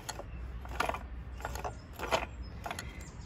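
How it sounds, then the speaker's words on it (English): Pistons and gears inside an opened 1983 Honda Shadow VT750C motorcycle engine turned by hand, a close repeating mechanical clicking and ratcheting with metallic rattles in rhythmic bursts, no voices. "Here's how your pistons are mounted. And they're gonna run up and down when this is turned."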